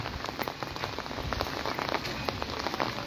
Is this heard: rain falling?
yes